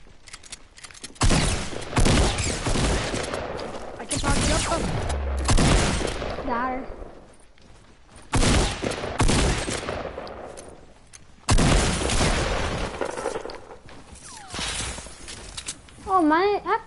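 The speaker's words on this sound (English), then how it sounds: "Pull out your shotgun, my man." Video game shotgun fire comes in several loud, separated bursts of booming blasts with quieter gaps between, close and sharp, with players talking over the action.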